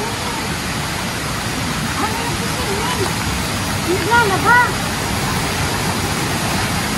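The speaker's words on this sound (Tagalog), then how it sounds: "Ang ganda dun, may lagas-las ng tubig." Water flows steadily in a stream at Mariposa Spring Resort in Tayabas, Quezon, making a continuous broad rushing wash throughout, with voices briefly rising over it midway.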